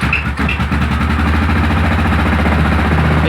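A 2002 Yamaha Grizzly 660 ATV engine catches after a brief cranking stutter, then settles into a loud, steady, close idle with a throbbing rhythm.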